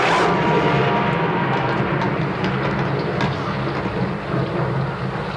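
A deep, steady rumble of an earth tremor shaking a room fills the whole stretch, loud and continuous with a hissing, rain-like wash layered over it and no voices.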